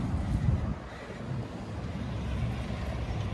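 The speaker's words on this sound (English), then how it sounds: "excuse the background noise because this is a thoroughfare for these big semis" A low, rumbling roar of heavy semi trucks passing nearby on a Route 66 thoroughfare, a broad steady drone with no voices.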